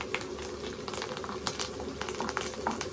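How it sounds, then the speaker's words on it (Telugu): Curry leaves frying in hot oil for chicken pickle give a steady, dense bubbling sizzle with light crackles throughout, at moderate loudness. "ఇప్పుడు ఇదంతా కరివేపాకు కూడా ఫ్రై అవుతుంది కదా"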